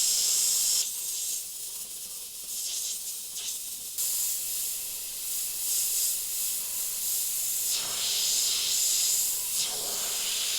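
An airbrush sprays black paint on evil-clown and real-fire artwork, making a steady close hiss that swells and dips with short pauses between passes.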